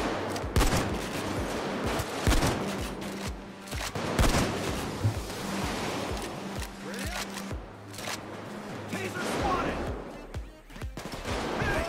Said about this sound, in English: I'm just shooting